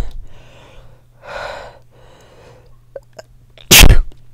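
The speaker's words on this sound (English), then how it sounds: "I think I'm gonna sneeze again." Three drawn-out, breathy inhales build up before one loud, sudden sneeze bursts out near the microphone, followed by quiet.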